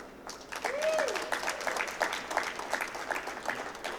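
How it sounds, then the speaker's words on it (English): An evening audience gives a round of applause, a steady wash of clapping that rises quickly and holds for several seconds, with a voice briefly heard over it. "Come on, a big round of applause for them."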